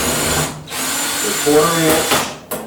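A power drill removes quarter-inch screws from a Kenmore dryer panel, whirring in short bursts, its motor pitch rising and dropping as it runs, with brief pauses between pulls of the trigger.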